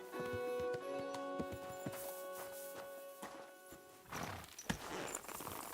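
Horse hooves clip-clopping closer in the medieval role-playing game Kingdom Come: Deliverance, steady footfalls over droning game music, growing louder and busier toward the end.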